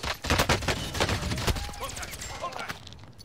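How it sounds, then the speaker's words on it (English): Rapid rocket launcher blasts and gunfire in a Call of Duty Rebirth Island match, a dense run of loud, sharp bursts with a few quieter pops trailing off, while players talk over the action. "Rocket launcher."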